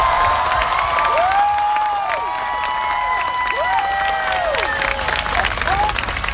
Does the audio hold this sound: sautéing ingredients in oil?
no